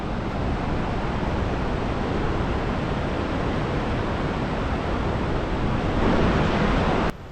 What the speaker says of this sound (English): Amount of flow in that river is pretty impressive.